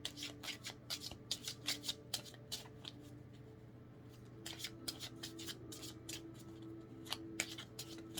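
A deck of pocket-size oracle cards being shuffled by hand, steady quick riffling flutters in repeated bursts with short pauses, close and soft, no talking.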